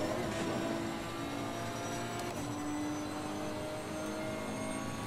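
A racing car engine in a racing video game at the Paul Ricard circuit drones steadily with a high, whining tone that shifts in pitch, running continuously with no talk.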